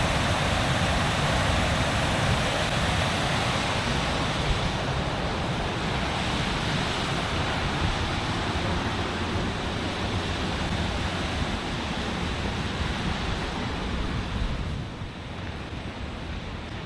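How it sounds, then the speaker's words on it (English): Rushing water of Low Force, a waterfall on a river near Middleton, roars as a steady, loud broadband wash throughout, easing slightly in level near the end. "I absolutely love the sound of rushing water."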